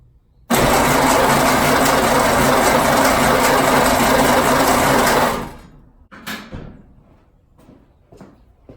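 A Ford Model A backyard find with a rebuilt carburetor cranks over on its starter for about five seconds, a loud, steady churning whir that cuts off abruptly, followed by a few faint clanks and rustles.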